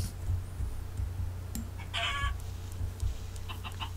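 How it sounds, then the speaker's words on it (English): Chickens in the video game Minecraft cluck in short bursts, several brief calls scattered over a steady low game hum, moderately close. "Maybe it is a chicken."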